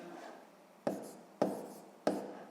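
Pen writing on paper while working a sixth-grade maths division exercise: a soft continuous scratch broken by three sharp taps about half a second apart, close and quiet, with no talk.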